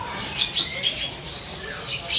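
Local zebra doves (perkutut) at a bird market stall, with a few short high chirps and calls over a busy market background while a voice talks.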